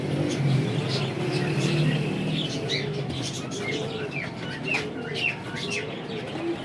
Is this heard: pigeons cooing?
yes